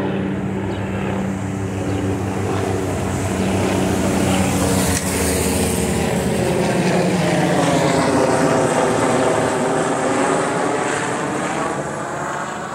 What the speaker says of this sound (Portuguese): É o maior helicóptero daí.